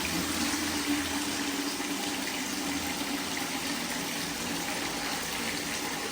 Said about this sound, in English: So you just press the button, it lets water out, and it turns itself off.